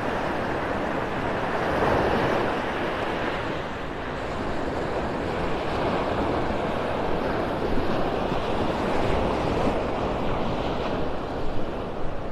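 Surf rolling onto a beach in North Naples, Florida, a steady broadband wash of breaking waves with heavy wind buffeting the microphone throughout, no voices.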